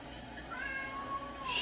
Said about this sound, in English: Somebody's let a cat into the ballpark, apparently.